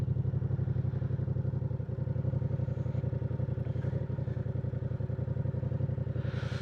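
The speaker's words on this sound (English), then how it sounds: "exhaust is still sounding all right" A Yamaha R7 motorcycle engine idles and rumbles steadily with a low, throbbing exhaust note, close and loud throughout, with a brief clatter near the end.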